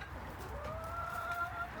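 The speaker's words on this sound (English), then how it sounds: "We love our chickens." Backyard chickens make a soft, drawn-out clucking call at a distance, faint over a low outdoor background.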